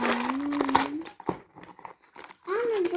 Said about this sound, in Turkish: Sıra benim kutumda. Açıyorum.